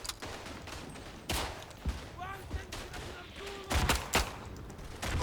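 Handgun shots in the WWI shooter Verdun: several sharp reports with long gaps, a few louder cracks among fainter distant fire, with a voice talking briefly between them.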